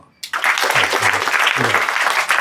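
Students at a classroom presentation break into clapping after a brief silence, a dense burst of applause lasting about two seconds with a voice speaking faintly underneath.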